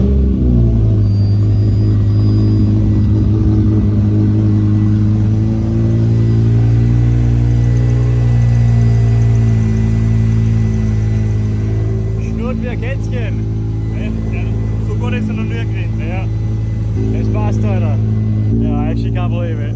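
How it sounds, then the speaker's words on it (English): A BMW M5 E60 engine runs steadily at a loud, even idle with a deep rumble throughout, while people talk over it in the second half. "The car is running now, and the car is running actually better than ever."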